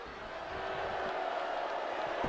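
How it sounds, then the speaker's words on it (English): A wrestling audience reacts with a steady, dense roar of crowd noise that holds at an even level throughout, with voices blending into the mass. "The audience and the crowd goes mild for Guy Person"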